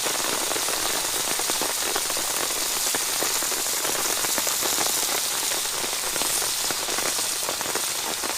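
Steady, dense rain patters on a surface throughout, a constant close hiss of drops with no voices.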